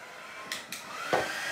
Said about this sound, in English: Let's give it some more heat and let it get a little bit more dry.